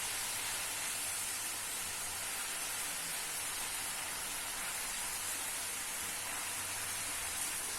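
Potato rings (aloo rings) fry in hot oil, giving a steady, close, dense sizzle that holds at an even level throughout, with no talking.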